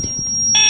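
A voice imitates the beep of a metal detector with one short, sharp, steady tone near the end, loud and close.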